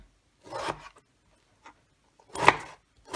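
A knife cutting a halved tomato finely, two short bursts of chopping strokes separated by silence, close and fairly quiet, without talk.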